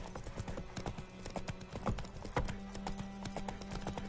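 Roach, the horse in The Witcher 3, clip-clops at a steady walking pace with crisp, close hoof strikes over a faint background bed, and no talking.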